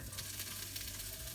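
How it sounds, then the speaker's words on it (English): Sausages sizzle in a hot cast iron pan, a steady hissing crackle that is faint but continuous and has no talk over it. "You want the cast iron to be hot enough when you add these in that it starts to sizzle."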